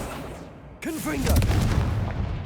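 A Confringo blasting curse goes off in Hogwarts Legacy, a sudden booming explosion that rumbles on for over a second, following a short spoken exclamation.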